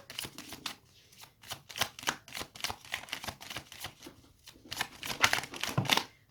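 A deck of tarot cards is shuffled by hand close up in a run of quick, soft riffling and flicking bursts. The papery slaps rise and fall over several seconds, without talk.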